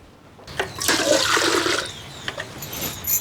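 Water running and splashing loudly for about a second and a half in a rural Marathi village home, then trailing off into quieter dripping and faint household noise.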